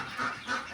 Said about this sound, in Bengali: হাঁস আছে